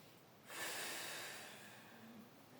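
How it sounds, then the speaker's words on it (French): A single long breath cycle during a diaphragmatic breathing exercise for hyperlordosis control: a steady inhale through the nose, then a sustained, airy exhale blown out through pursed lips, close and quiet, with no talking. "vous inspirez par le nez, vous soufflez par la bouche en passant les lèvres"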